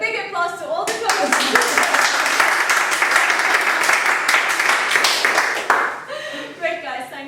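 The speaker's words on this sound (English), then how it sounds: "let's give a big applause to all the coaches" An audience claps for the coaches at a tryout, with loud, sustained applause between short bits of talk at the start and end.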